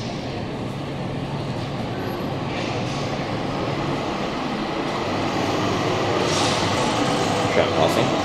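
A tram passes through a Melbourne street, a steady, broad rumble of wheels and motor that stays loud and close for the whole stretch and swells slightly toward the end, with no talking over it.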